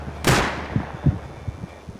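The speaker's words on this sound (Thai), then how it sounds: "มันยิงอะไรมัน" Gunfire in the survival game Rust: one sharp, loud shot at the start, followed by a few duller thumps that echo and fade.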